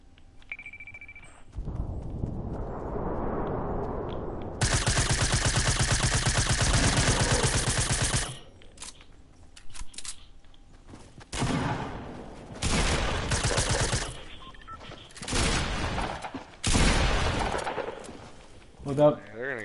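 Video game gunfire heard in bursts, a long sustained volley of rapid shots followed by shorter rattling bursts and single cracks, with players talking over the pauses.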